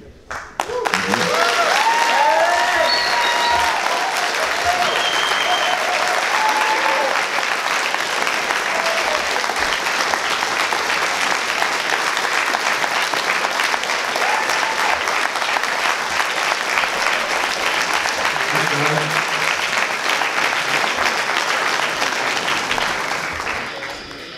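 An audience at a convention panel applauds, a loud, dense wash of clapping that starts suddenly and holds steady for over twenty seconds before tapering, with a few voices and cheers mixed in early.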